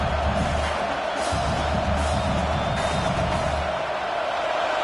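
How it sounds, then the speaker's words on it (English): Stadium crowd at a college football game with Auburn, a steady roar of cheering and noise filling the whole clip on fourth down, loud and continuous with no clear speech. "this crowd trying to help this defense rise to the occasion"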